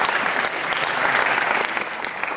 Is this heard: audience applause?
yes